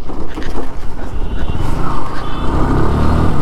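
A Yamaha R15 motorcycle runs on the road just after refuelling. A loud, rough engine drone mixes with heavy wind rush and rumble, with brief faint vocal sounds mixed in.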